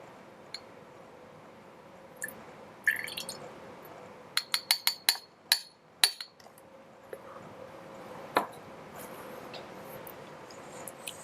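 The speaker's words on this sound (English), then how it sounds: "I'm going to pour the liquid out and retrieve the metal." Liquid from a copper sulfate experiment is poured out of a glass test tube, giving soft trickling and dripping with a quick run of bright glass clinks and taps, fairly quiet and close, with no voices.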